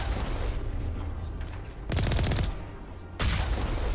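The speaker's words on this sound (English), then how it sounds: "Should probably just hit him with the cannon." Heavy weapons fire during combat in the Mass Effect Legendary Edition video game, a rumbling barrage punctuated by two loud, sudden blasts of rapid fire near the end.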